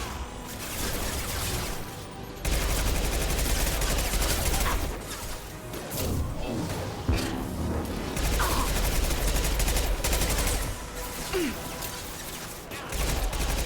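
Dense, continuous gunfire in the sci-fi shooter Mass Effect 2, with rapid bursts and booming impacts filling the scene and a voice speaking briefly underneath.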